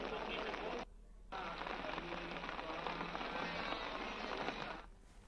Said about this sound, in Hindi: चमोली में रुक रुक कर बारिश का दौर जारी है